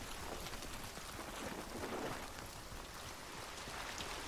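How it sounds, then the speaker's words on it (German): Heavy rain in the swampy world of Hunt: Showdown pours down as a dense, steady broadband hiss, close and enveloping for the whole stretch with no voices. "Wenn man so stark im Regen ist, versuche ich durchzurennen."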